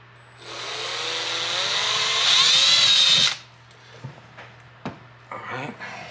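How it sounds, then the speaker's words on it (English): A power drill bores a pilot hole while a dashmount is installed in a Polaris RZR Pro. The motor whines for about three seconds and rises in pitch under load, then stops, leaving scattered knocks and clicks. "We got a pilot hole drilled in."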